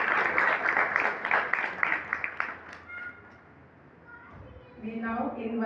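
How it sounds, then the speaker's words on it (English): A round of applause for the DAV Gill Nagar team at a students' program: a few seconds of brisk, rhythmic clapping that stops abruptly, followed by a short pause and then a voice speaking. "A round of applause for the complete DAV Gill Nagar team."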